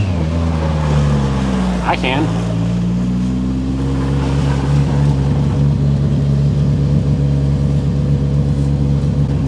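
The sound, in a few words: car engine revving while driving on snow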